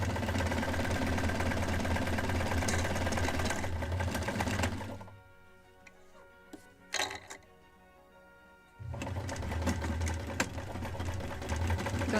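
Sewing machine stitching sails for a Midwest kit model of a Muscongus Bay lobster smack: a steady, close mechanical whirring that stops for a few seconds with a few clicks, then runs again.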